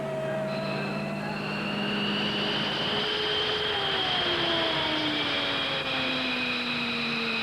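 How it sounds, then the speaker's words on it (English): Loud, steady roar of F-15 fighter jet engines revving, with rising and falling whines, sustained throughout without any talk. "Captain Dave Slade revs the engines."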